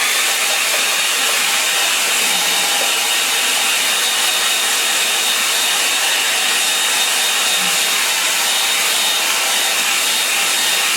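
Hair dryer blowing steadily to dry a watercolour painting of the River Asker near Bridport, Dorset; a continuous close, loud airy whoosh runs unbroken throughout, with no talking.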